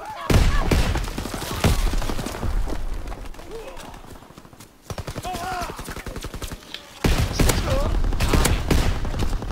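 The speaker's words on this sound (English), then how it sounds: "this shotgun is much better" Rapid bursts of shotgun and automatic gunfire from the Call of Duty: World War II video game, loud and dense, with a brief lull midway before heavy firing resumes, and game voices mixed under the shots.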